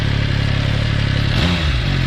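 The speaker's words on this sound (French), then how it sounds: "là vous avez vu un moteur qui prend carrément les tours. Là c'est explosif." An MV Agusta Rivale motorcycle engine revving hard, a loud, close, throbbing roar with a rising pitch near the end, heard alone without talk.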